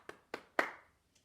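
Three sharp, well-spaced hand claps ring out close and alone in a quiet room during a children's literacy lesson, followed by one faint tap.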